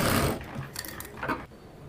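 Sewing machine stitching the lining at the neck of a blouse front, a close burst of motor whir that stops and restarts in short runs, with no voices.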